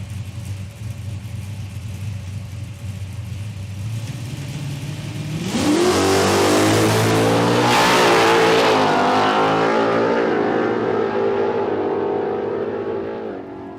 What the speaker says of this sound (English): that distinct sound of a supercharged Coyote engine